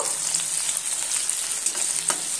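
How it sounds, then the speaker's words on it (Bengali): Chopped onion frying in hot oil for a Bengali ridge gourd and potato curry, a steady close sizzle and crackle throughout, with faint stirring scrapes and no voices. "পেঁয়াজকে প্রথমে নেড়ে চেড়ে লাল করে ভেজে নেব"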